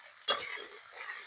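Okra frying in a pan: a quick scrape of stirring, then a faint, steady sizzle of the pods in hot oil.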